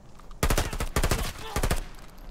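Gunfire at an enemy in Arena Breakout Infinite: several loud, close bursts of rapid automatic fire separated by short pauses.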